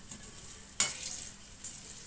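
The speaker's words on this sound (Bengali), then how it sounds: "বেশ সময় নিয়ে ভেজে নিতে হবে ভাজা হয়ে গেছে" Ras bora fritters fry in oil over a low flame, with a soft sizzle broken by a sharp stirring scrape near the start and a quieter one toward the end.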